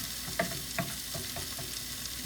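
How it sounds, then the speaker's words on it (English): Seasonings frying in a hot pan and starting to scorch, a soft steady sizzle with a couple of light scrapes or stirs near the start, close and fairly quiet with no talking. "I don't want these seasonings to burn, which they already are burning a little bit."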